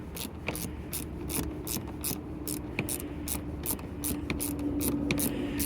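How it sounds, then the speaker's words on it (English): A hand ratchet tightens the side mirror bolts on a 2007 Honda Accord, giving sharp, evenly spaced clicks in quick bursts close by, with a faint hum underneath. "grab your ratchet"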